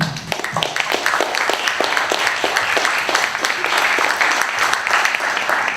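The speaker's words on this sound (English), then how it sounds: "So you deserve a big round of applause." Steady, dense applause from a conference audience, many hands clapping continuously at even loudness throughout.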